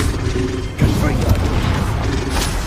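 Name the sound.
Confringo explosive spell blast from Hogwarts Legacy video game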